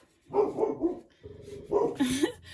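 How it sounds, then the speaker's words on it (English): Indoor dog barking close by in two short bursts of several loud barks, with a brief quiet gap between them. "excuse my dog"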